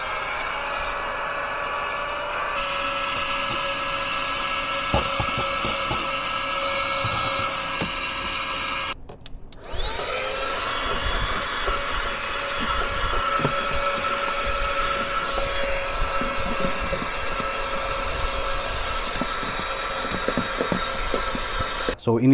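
A budget portable vacuum cleaner runs continuously with a loud, steady high-pitched motor whine, cutting out briefly midway before spinning back up, with faint rattles and handling noises throughout.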